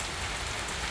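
Rain falls on an outdoor surface near a computer, making a dense, steady hiss of drops close by. It stays constant with no breaks.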